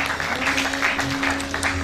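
Audience applause greets an invited guest taking a seat on stage at a felicitation ceremony, a steady wash of many hands clapping that stays even and fairly loud throughout, with a low steady hum beneath.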